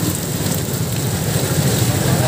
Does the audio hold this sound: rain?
yes